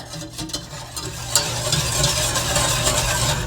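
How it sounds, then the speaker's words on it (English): A vanilla pudding mixture of milk being stirred in a pot by hand, a continuous scraping and swishing with a few sharp clinks of the spoon against the pot, moderately loud and close. "I'm going to kind of stir that in here before I put it on my burner."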